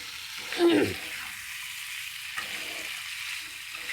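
Country chicken curry cooking in oil in a pot. A soft, low sizzle runs throughout, with one brief louder burst near the start.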